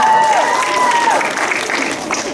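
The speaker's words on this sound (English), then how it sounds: "Ahana, let's hear it for Ahana, round of applause." A school science quiz audience applauds a contestant stepping up, with loud, dense clapping and a brief whistle-like tone at the start, easing slightly as it goes on.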